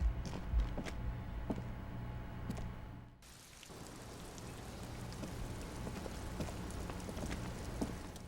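Steady rain in the video game Disco Elysium patters across surfaces, with scattered drops tapping close by and a brief dip in the wash partway through.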